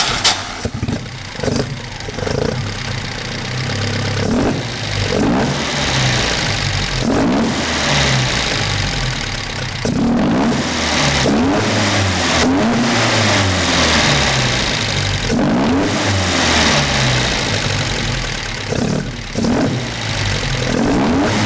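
A 50-year-old Alfa Romeo with a full aluminium engine and a 4-2-1 exhaust revs hard up toward 7000 rpm, loud and close, rising and falling repeatedly in sharp blips with no talk.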